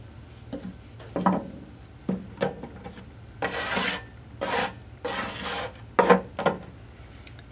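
Fingers rub along the edges of a clay slab in a run of short, dry rasping strokes, some longer and louder, close up with no talking.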